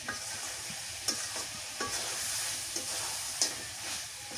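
Country chicken and potatoes fry in a pan while being stirred, a constant sizzle broken by sharp scraping knocks of the spoon at irregular intervals, close and without speech.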